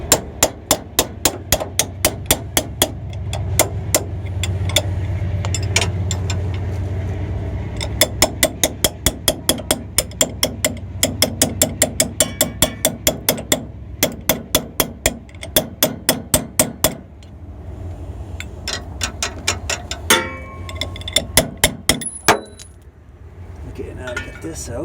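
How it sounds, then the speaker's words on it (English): Steel hammer repeatedly striking locking vise grips clamped onto a leaf spring on a 2002 Nissan Xterra, loud, close metallic blows in rapid bursts and steady runs throughout, with brief pauses and some low background rumble. "Clamp it on here and then hit the vice grips like that."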